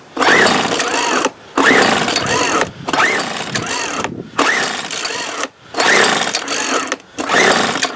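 A 1997 Weed Eater BV 1800 24cc leaf blower engine being pull-started, five or six loud bursts of revving and sputtering separated by brief gaps as it catches and dies, close to the mic.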